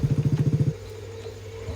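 A stalled motorcycle on a forest track on the way to camp in Tesso Nilo National Park is cranked again, giving a fast run of about ten rhythmic chugging pulses that stop abruptly, leaving a low steady hum.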